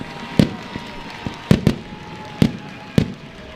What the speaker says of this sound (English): We do have fireworks this week.